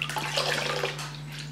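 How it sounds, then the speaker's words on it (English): Water runs from a tap as a face is rinsed in a skincare routine, a short close splashing rush that fades slightly toward the end. "I'm just gonna stand up here and rinse, rinse,"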